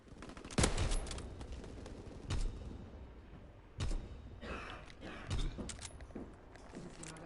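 Gunfire rings out in Call of Duty WWII, a few sharp shots spaced a second or so apart over a low, rumbling game backdrop.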